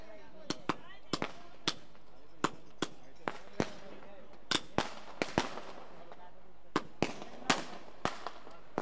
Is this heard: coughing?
no